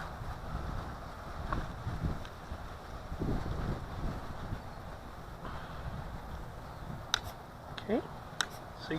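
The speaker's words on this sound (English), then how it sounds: "that wind is no joke" Wind buffets the microphone outdoors in a steady low rumble, with a person speaking over it and a few faint high chirps near the end.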